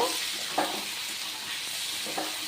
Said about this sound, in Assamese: ইফালে এয়া মাংস শেষ ভাজিব